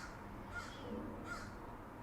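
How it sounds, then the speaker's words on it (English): A crow caws outdoors, a few hoarse calls at moderate distance spread across a couple of seconds against quiet background noise. "I heard a crow outside saying,"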